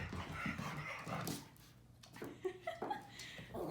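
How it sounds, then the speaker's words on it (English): Excited pet dogs bark, whimper and pant nearby in short irregular bursts, with a faint voice or laughter underneath. "crazy dogs."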